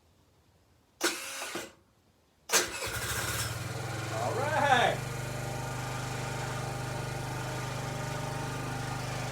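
A TaoTao 50cc scooter engine cranks a couple of times, catches and revs briefly, then settles into a steady idle; a voice speaks briefly near the start.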